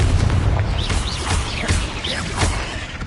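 Confringo blasting curse in Hogwarts Legacy, booming explosions and fiery bursts cracking in quick succession, loud and close over a dense rumbling background.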